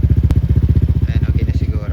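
A motorcycle with a DIY refibered exhaust pipe idles at low RPM close by, giving a steady, even thumping pulse.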